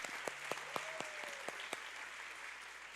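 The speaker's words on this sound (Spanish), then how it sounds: "¿puede darle un aplauso al Señor ahí donde está?" Faint, sparse clapping from a church congregation, a handful of distinct claps over the first couple of seconds, with a brief tone under it and a quiet room after.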